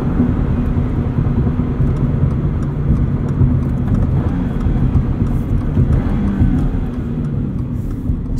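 A 2022 Subaru BRZ fitted with a 4.3 rear differential and Bridgestone Potenza RE71RS tires runs up through the gears, its engine droning steadily and close beneath loud, constant road rumble. Nobody speaks.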